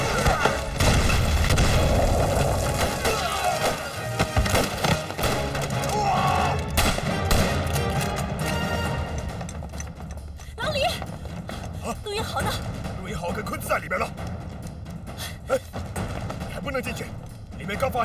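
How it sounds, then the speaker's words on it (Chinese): Explosions and gunfire in a war film battle scene: dense, loud bursts of shots and booms over a roaring background, thinning after about ten seconds into scattered cracks, with voices shouting at times. "发生爆炸，太危险了，不能进去。"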